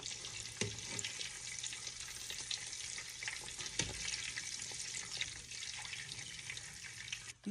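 Food frying in vegetable oil heated to 350 degrees, a steady close sizzle and crackle throughout with a few clinks of stirring, no voices.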